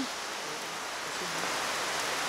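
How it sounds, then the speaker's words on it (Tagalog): Rain falls in Tuburan, Santo Rosario, Pandan, Antique, as a steady, faint, hissing patter with no voices present. "habang umuulan"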